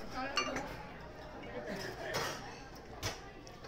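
Small plates, chopsticks and oshibori are collected from a table at a family meal, making light, scattered clinks of dishes and utensils beneath steady family chatter and talk.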